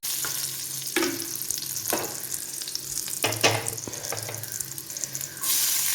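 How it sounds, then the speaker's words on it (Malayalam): Onion goes into a pan already holding ginger, garlic and green chili and starts frying, a soft sizzle broken by stirring clatters and a few sharp knocks, with faint water running in the background. "ഇഞ്ചിയുടെയും വെളുത്തുള്ളിയുടെയും പച്ചമണം ഒന്ന് മാറിയിട്ട് സവോള ഇട്ട് കൊടുക്കാം"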